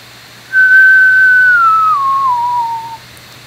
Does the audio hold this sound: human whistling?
yes